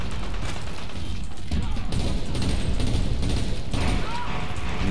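Grenade launcher fire in Dirty Bomb, a dense run of rapid booming shots and crashes stacked one after another, loud and continuous across the stretch, with a voice speaking faintly under the barrage.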